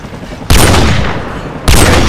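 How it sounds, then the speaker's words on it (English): Loud gunfire bursts in Call of Duty 4: Modern Warfare, two sharp, dense volleys starting near the half-second and again toward the end, each decaying into a roaring, rumbling tail. "Take out that helicopter."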